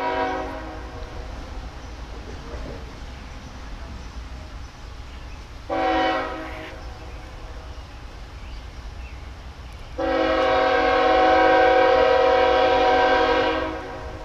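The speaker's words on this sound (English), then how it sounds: "The daily BICB train, Blue Island, Illinois, to Council Bluffs, Iowa, heads west through town with a matched pair of ES-44 ACs leading." A westbound freight train led by a matched pair of ES-44AC locomotives passes through a town, its horn sounding two loud blasts, one brief and one long, over a steady low rail rumble.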